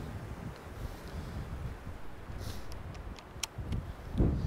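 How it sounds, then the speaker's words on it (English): Gusty wind buffets the microphone outdoors beside a 2019 Ram Power Wagon pickup, a rough low rumble that rises and falls in uneven surges and swells strongest near the end. "Good God, wind."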